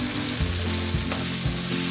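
Cornstarch slurry gets stirred into a chilli chicken gravy in a hot pan, a steady sizzle broken by a few low scraping strokes of the spoon, with no one talking.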